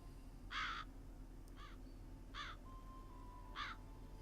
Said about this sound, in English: it must be the place if there's a shit ton of crows.